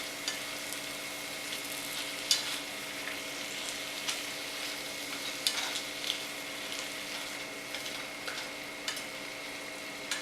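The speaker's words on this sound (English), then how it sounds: "we're gonna brown it until there's almost no pink left" Meat browning in a skillet for a Southwest-inspired one-pan dish, a steady soft sizzle and crackle running throughout with occasional small pops and stirring scrapes, moderately quiet and unaccompanied by talk.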